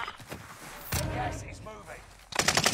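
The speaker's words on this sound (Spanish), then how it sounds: "Me están disparando otros." Gunfire in Call of Duty Warzone during a tournament qualifier: two short, sharp bursts of shots stand out against faint game noise, and voices talk quietly in the background.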